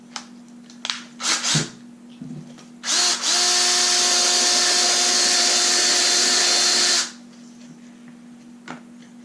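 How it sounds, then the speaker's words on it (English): A few short clunks, then a power drill sanding the edge of a knife sheath whirs steadily for about four seconds at close range before stopping, leaving quiet handling noise. "I'm actually going to try this with the drill, see if that works first and get a nice clean edge."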